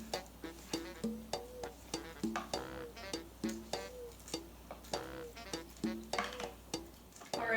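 A spoon stirs and scrapes inside a pot while the contents soften, making a steady run of short, clinking strokes close by with no talking.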